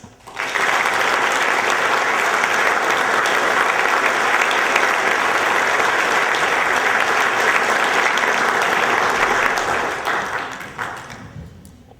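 An audience in Central Pennsylvania bursts into warm, sustained applause to welcome a speaker. The dense clapping holds steady for about ten seconds, then thins out and fades.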